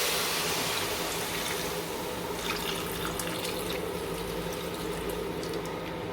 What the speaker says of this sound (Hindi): अब मैं इसके अंदर 1 कप पानी का डालूंगी।